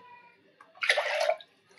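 A brief gush of water is poured into a pressure cooker holding toor dal, rising suddenly and close for about half a second before cutting off, over a quiet kitchen background.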